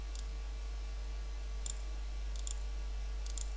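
A computer mouse clicking a few times, small sharp ticks spaced apart over a constant low electrical hum, no talking.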